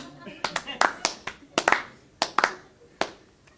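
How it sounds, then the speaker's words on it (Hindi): A small audience claps in scattered, uneven bursts, some sharp and close, while people talk over and between the claps. "अब ताली चाहिए"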